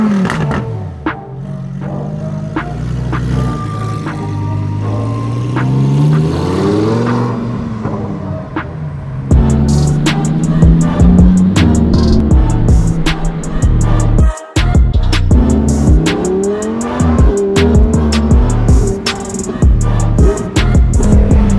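The engine of a 2018 Lamborghini Huracan Performante, heard from inside while driving, rising and falling through the revs with repeated gear changes, loud and continuous throughout.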